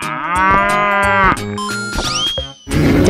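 A cartoon cow gives a long, loud, close moo in a children's animated farm-animal show, followed by shorter tonal sound-effect flourishes and a brief final burst, with no talking.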